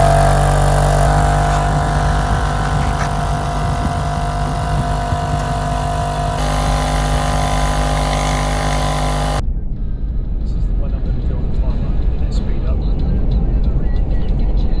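A four-wheel-drive car cruising on a road in Cape York, its engine a loud, steady droning hum heard from inside the cabin with constant road rumble and faint voices.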